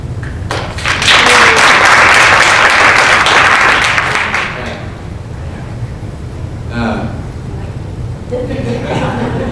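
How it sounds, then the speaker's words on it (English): An audience at an advocacy panel discussion applauds, a dense burst of clapping building quickly, holding strong for a few seconds and then tapering off, with talk and a bit of laughter coming in near the end. "round of applause"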